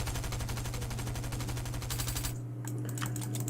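The regular Stinger SMG fires a rapid, continuous automatic burst in a video game, with tightly spaced shots that cut off abruptly near the end, followed by a few scattered clicks.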